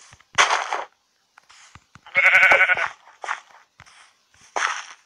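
A young sheep bleats several times in short, wavering cries, with one louder, strongly trembling call in the middle, close by, amid faint rustling and scattered clicks.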